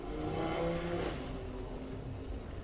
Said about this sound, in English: Car sound effects, of course